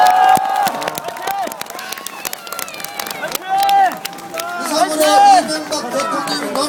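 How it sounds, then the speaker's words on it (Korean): A crowd of local residents at an outdoor welcome for a retiring South Korean president claps and cheers amid loud overlapping chatter and shouting voices, with the bursts of clapping partly buried under the crowd noise. "뜨거운 박수를 부탁드립니다."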